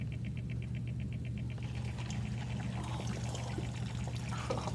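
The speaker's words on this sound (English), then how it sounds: "let me turn the water on" Water trickles and patters steadily through the tube of a condensation apparatus, close and constant under a low hum, with a faint rhythmic ticking early on.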